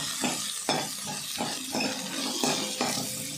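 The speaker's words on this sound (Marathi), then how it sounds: "कांदा चांगला परतून घ्यायचा आता" Onion frying in a pan with browned coconut and being stirred, soft sizzling broken by regular scraping strokes of a spoon against the pan.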